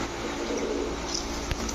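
Pigeons at a pigeon seller's, soft low cooing over a murmuring background, with a faint sharp click near the end; no speech.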